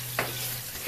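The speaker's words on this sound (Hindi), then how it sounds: "अभी मैं इसको भूनूंगी।" Masala and mutton for aloo gosht frying and being stirred in a pan, a brief close-up sizzle with one or two scraping stirs.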